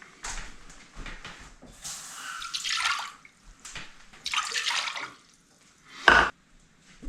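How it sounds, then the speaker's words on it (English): Water is poured into a saucepan in short bursts of splashing and trickling, fairly close, separated by brief pauses and ending in a louder clatter. "So, starting point is 2 cups of water in a saucepan."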